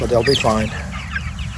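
Backyard chickens cluck in a short burst at the start of the clip, beside a speaking voice, with the sound fading into quieter farm ambience.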